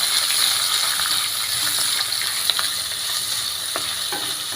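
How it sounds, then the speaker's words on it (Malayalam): Chopped ginger and garlic fry in a pan, with a steady bright sizzle throughout and the occasional clink and scrape of stirring close by. "ഇതിലേക്ക് നമ്മൾ ചെറുതായിട്ട് അരിഞ്ഞു വെച്ചിരിക്കുന്ന ഇഞ്ചി വെളുത്തുള്ളി ഇട്ട് കൊടുക്കാവേ ഇത് എന്നിട്ട് ഇളക്കി കൊടുക്കാം"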